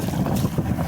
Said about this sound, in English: This is the exhaust. That sound there, that's the real summer sound.